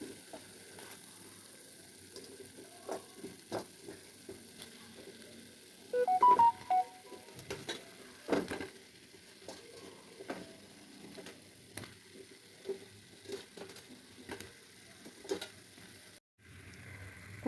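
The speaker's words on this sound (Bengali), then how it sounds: "ঠিক এই অবস্থাতেই আমি কুমড়োগুলো আস্তে আস্তে বসিয়ে দেবো।" Pumpkin pieces laid one by one into a hot pan over spices give off a soft, steady sizzle, with a few light clinks and taps rising above the quiet frying.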